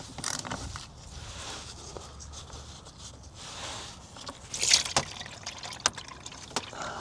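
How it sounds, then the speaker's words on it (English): Transmission fluid drains from a BMW E90 335d gearbox as a steady, close liquid trickle and patter, with a few louder splashes and clinks partway through. "We'll let that drain for a bit here."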